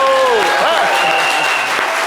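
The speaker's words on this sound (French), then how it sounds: "On peut l'applaudir très fort." Audience applause for a winning contestant on a French live talk and entertainment show, a dense wash of clapping from the studio crowd under a host's voice and a brief musical sting.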